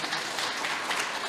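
Audience applause for a presenter at a faculty day event, a steady, dense wash of clapping from many hands filling the room throughout, with no pauses or speech.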